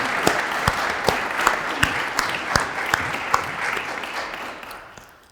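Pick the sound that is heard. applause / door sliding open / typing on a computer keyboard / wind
applause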